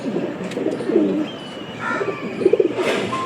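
Pigeons, including a Kalanko pair, coo at close range: low throaty burbling phrases come in short bursts with small pauses between them, and a faint rustle sits in the background.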